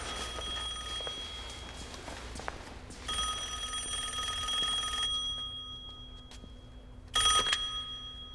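Telephone bell ringing in a 1992 broadcast scene, with a long electric ring, a pause, another long ring and a final short burst before the answering machine picks up, heard alone over a low hum.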